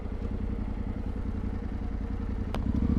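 A motorcycle engine idles and rolls slowly between pylons to park in a busy city, a close, steady rhythmic putter with a brief sharp click near the end.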